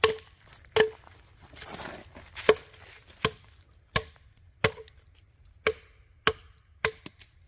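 Cedar wood chopped with a Work Tuff Gear Nightmare 3 blade, about a dozen sharp, close knocks landing at a steady rhythm roughly every second, with brief quiet gaps between strikes.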